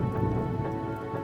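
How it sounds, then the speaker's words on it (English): Heavy rain pounds steadily outside, a dense, loud wash of drops with no break or voices over it, though the picture cannot firmly separate it from other steady noise. "Rain was pounding outside."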